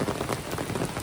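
Heavy monsoon rain falls steadily in a Konkan village, a dense continuous patter that fills the whole moment with no voices.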